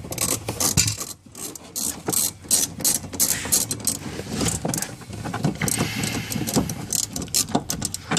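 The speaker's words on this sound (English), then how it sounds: "with our ratchet and tighten those two bolts that we need to get off" A hand ratchet tightening coilover bolts on a Honda Civic, with steady rapid clicking strokes repeating close up throughout, with faint shop noise underneath.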